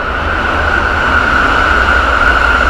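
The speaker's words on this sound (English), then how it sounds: "More trains" Trains pass through Yokohama, Japan, with a steady, loud rail roar and a sustained high tonal whine holding throughout, with no voices.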